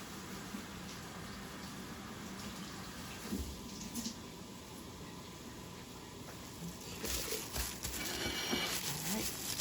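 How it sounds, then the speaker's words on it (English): Lettuce is washed under a running kitchen tap, a soft, steady stream of water with small splashes and handling noises that grow somewhat louder toward the end. "I'm going to take off some lettuce here to use for the taco. And set it aside and wash it first."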